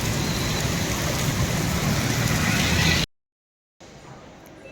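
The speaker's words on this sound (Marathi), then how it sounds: "पाऊस पडतोय खूप जास्त" Heavy monsoon rain pours down steadily outdoors as a dense, loud hiss, then cuts off abruptly, followed by quieter rain.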